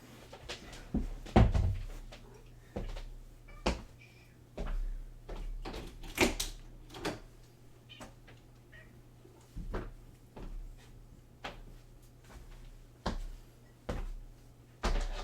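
A door being opened indoors to let a cat out, a series of soft knocks, clicks and thuds spread across the span at irregular intervals, fairly faint with a low background hum.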